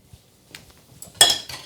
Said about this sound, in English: I'll just shake off the whisk.